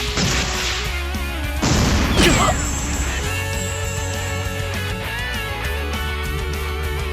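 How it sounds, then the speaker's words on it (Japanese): A sleep grenade fired in Ao no Kiseki: a sharp launch and crash burst rises above layered game music and effects, and a voice calls out just before. "催眠弾発射。"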